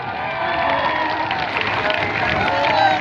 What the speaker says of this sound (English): let's give all these athletes present here in front of us a big round of applause